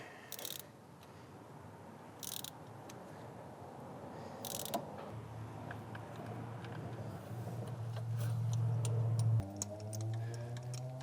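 A torque wrench ratchets with rapid, faint ticking clicks while tightening Subaru FA20F spark plugs. Other mechanical noises sound underneath, and a low mechanical hum swells toward the end.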